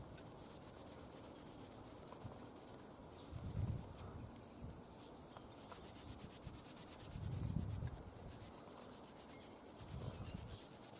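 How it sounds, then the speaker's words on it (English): An abrasive eraser block of about 600 grit rubs over a Cold Steel Trailmaster knife blade, giving a faint, continuous scratchy scrubbing with a few louder strokes, with outdoor insects chirping softly behind. "Just take the eraser block, which I think is about a 600 grit."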